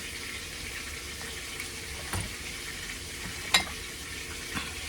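Soft butter sizzling and frying in a hot pan while pork chops are prepared, a steady low crackle filling the background with a couple of faint clinks.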